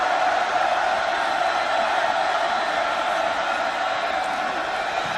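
College football stadium crowd at a Samford versus Georgia Southern game after rain, a continuous roaring wash of cheering voices, loud and sustained without breaks.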